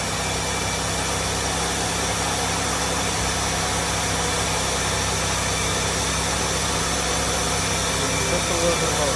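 A car engine in an automotive lab settles into a steady, mid-pitched idle with a faint knocking vibration, heard close and continuous under a constant background hum.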